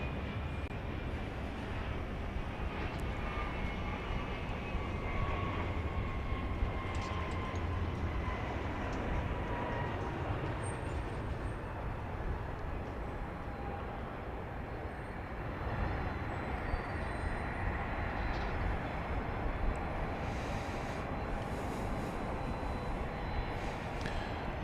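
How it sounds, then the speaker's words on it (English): A Southwest Boeing 737 Max 8 airliner on approach over downtown Dallas to Love Field sends a broad, steady jet roar with a slowly shifting whine, heard from a distance with no voices. "Coming in over downtown Dallas now, flight 3431 Southwest. Max 8, which originated at LaGuardia Airport in New York."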